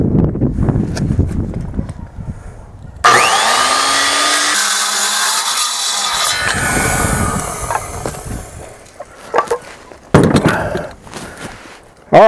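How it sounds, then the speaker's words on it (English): A power saw spins up and bites through a wooden board to cut an angle for a pole barn truss, a loud whining cut lasting several seconds, followed by clunks of wood being handled. "Okay, I'm gonna cut this board now."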